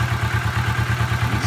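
A warmed-up 2017 Kawasaki Vulcan S Café ABS motorcycle engine idling close up, a steady low rhythmic thump repeating evenly throughout.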